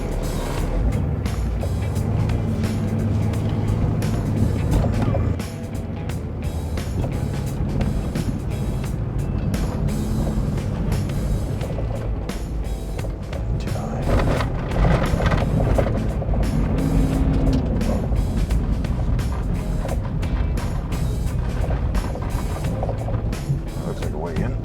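A truck engine during a test drive, running continuously with a shifting, rumbling drone and varying load, heard close under frequent talk from people nearby.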